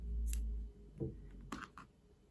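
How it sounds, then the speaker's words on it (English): A pair of scissors snips through yarn while crocheting a rose granny square, with a dull thump followed by a few short, close snips and clicks. "we're just gonna chain, cut the yarn"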